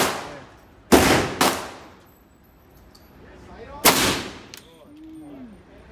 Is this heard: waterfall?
no